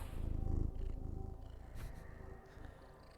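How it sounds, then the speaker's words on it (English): A cat purrs right against a microphone, giving a close, low rumbling purr in soft rhythmic pulses that fade slightly toward the end, with no talking. "I got little cat problems here. Purring into the microphone."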